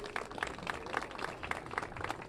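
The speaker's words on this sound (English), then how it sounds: "So a huge round of applause for the Wonder Wheel 100th anniversary" A crowd at the outdoor Coney Island celebration of the Wonder Wheel's 100th anniversary claps, soft and somewhat distant, with a loose rhythm of distinct hand claps over a background murmur.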